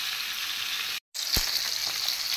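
Fish frying in a large frying pan gives a close, steady bright sizzle. It is cut by a brief silent gap, then resumes with a single soft knock and continues crackling, with no talk.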